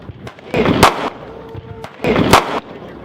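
An HK VP40 pistol fires at an outdoor range, two loud sharp shots about a second and a half apart, each with a brief echoing tail.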